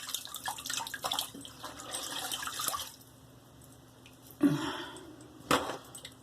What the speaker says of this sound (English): Let's rinse a little bit of this off.